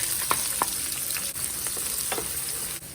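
Ginger and shallots frying in coconut oil in a pan, a steady close sizzle with a few sharp pops and light stirring clatter, no voices.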